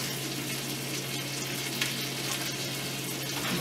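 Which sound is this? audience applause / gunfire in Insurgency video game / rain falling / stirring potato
stirring potato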